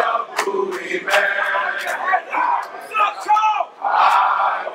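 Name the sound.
crowd cheering at a concert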